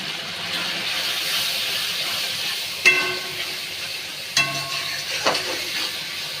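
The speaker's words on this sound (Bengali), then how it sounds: "ভালো করে কষাতে হবে।" Spices frying in oil with tomato paste, salt and turmeric, a dense steady sizzle and hiss with a few sharp utensil knocks against the pan, close and fairly loud, no voices.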